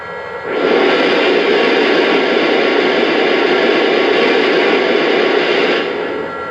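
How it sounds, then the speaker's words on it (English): Steam blowdown effect from a Lionel Union Pacific FEF-3 #844 model locomotive, a loud, steady hiss of rushing steam that starts abruptly, holds for about five seconds and then fades. "There's a steam blowdown sound effect,"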